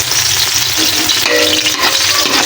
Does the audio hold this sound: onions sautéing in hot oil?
yes